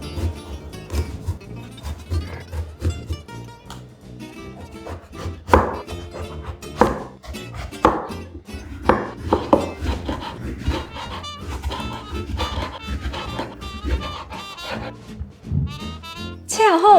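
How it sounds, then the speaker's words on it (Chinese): Knife chopping eggplant into long strips on a board, a run of sharp, uneven taps and thuds close by, some spaced and some in quick bursts, with faint background noise between strokes. "最后，我们就来切今天的主角茄子，我们要将它切成长条状。"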